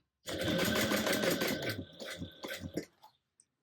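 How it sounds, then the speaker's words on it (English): A sewing machine stitches a tote bag seam up to a line near the top of the main panel, running steadily and close for about two seconds, then slowing into short bursts and stopping. "we're going to sew all the way up here to this line that's 2 inches from the top of the main panel"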